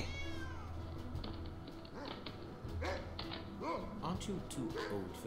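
Cat meowing inside the video game The Last Testament of Sherlock Holmes, a rising tonal call near the start followed by game dialogue and ambient sounds over a steady background.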